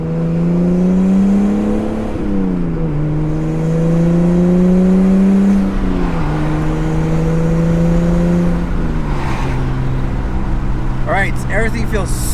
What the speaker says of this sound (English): Let me do a little harder acceleration, see if it makes a difference between shifting gears.